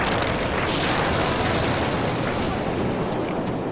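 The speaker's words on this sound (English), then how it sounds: "An earth-shattering explosion in a rocket fuel factory rocks this small desert town." Huge explosion at a rocket fuel factory in a small desert town, heard as a sustained, loud, broadband roaring rumble that fills the whole stretch without letting up.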